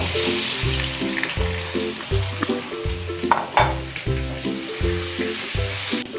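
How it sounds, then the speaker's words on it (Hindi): Potatoes are stirred into hot spiced oil with mustard seeds and curry leaves, giving a steady sizzle broken by rhythmic scraping strokes of a spoon against the pan, close and clear with no talking. "तो अच्छी तरह मिक्स करेंगे और आलू मिक्स करेंगे इसके अंदर"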